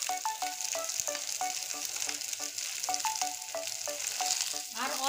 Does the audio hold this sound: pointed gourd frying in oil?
yes